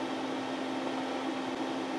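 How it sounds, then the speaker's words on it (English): Steady broadband hiss with a constant low hum tone from a Hewlett-Packard 8662A signal generator feeding test equipment, even and unchanging throughout. "That's that noise you hear in the background as I'm feeding it from an Hewlett-Packard"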